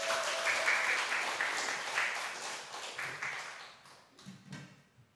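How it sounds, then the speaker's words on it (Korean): Congregation at a Korean church Sunday worship service breaks into applause, a dense, steady round of clapping that fades toward the end, with a few scattered claps and light voices trailing after. "우리 박수"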